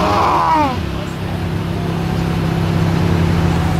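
A Ferrari F430 engine hums steadily from inside the cabin, a low, even drone that settles after a brief burst of voice at the start.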